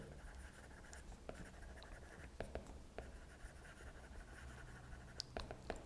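Pen or marker writing on a board or tablet during a lecture on polynomial time reductions, a steady scratchy scribble with short taps and strokes, fairly faint and close, with no talking.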